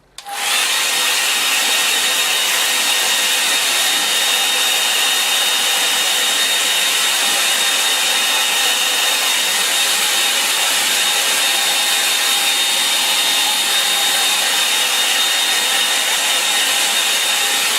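A hair dryer blows steadily at close range, a constant airy roar with a faint high whine, running unbroken for the whole stretch.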